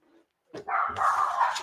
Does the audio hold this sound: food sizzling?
no